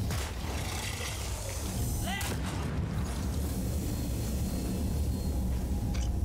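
A drop pod landing in the video game Deep Rock Galactic: a heavy, continuous rumbling roar with booming impacts and brief whooshing sweeps, loud and close throughout.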